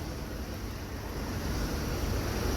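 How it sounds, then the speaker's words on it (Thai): Floodwater rushing through a city street in Chaiyaphum, a dense, steady roar of churning water that swells slightly louder toward the end, with no voices heard. "นี่ครับน้ำม้วนน้ำมหาศาลมากนะครับเด้อ"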